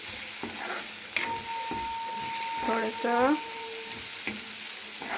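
Masoor dal frying and sizzling in a pan, a steady close hiss with a few spoon knocks while someone speaks briefly over it.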